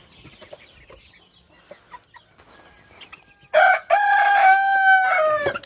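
Bourbonnais and Azur roosters in a small poultry flock let out one long, loud crow close by, with scattered soft clucks and shuffling from hens and young birds before it.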